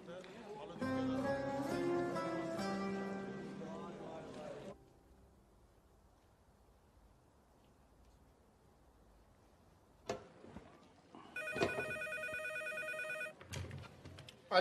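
A telephone rings with an incoming call, sounding as a bright repeating ringtone in two bursts separated by a quiet pause, close and clear in an indoor drama scene.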